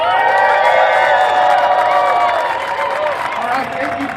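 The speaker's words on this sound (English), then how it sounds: "John, a big round of applause and warm welcome." A crowd at a labor union rally cheers, whoops and applauds loudly for an incoming speaker, dense and close, fading slightly toward the end.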